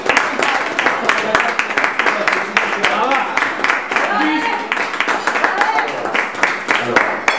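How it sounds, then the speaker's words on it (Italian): A small group claps at a vegan dinner table, the scattered applause running throughout while several people talk and laugh over it. "Un applauso alle porte."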